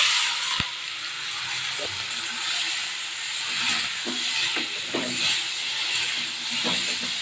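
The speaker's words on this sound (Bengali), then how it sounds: "এবার এই মাছগুলো এর মধ্যে দিয়ে দেবো" Marinated shrimp hit hot mustard oil in a pan, giving a steady loud broadband sizzle and hiss with a sharp crackle as they drop in, and light utensil clinks scattered across the frying.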